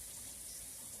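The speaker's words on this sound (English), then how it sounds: "I'm going to put in another cup of water" Water poured into a cooking pot for yellow rice makes a brief, steady, faint gushing wash with no voices.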